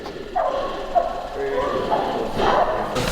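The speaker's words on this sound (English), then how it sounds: "There's so many dogs." Pack of hunting dogs baying and yelping at a treed bobcat, overlapping howls from a short distance, with a person talking among them.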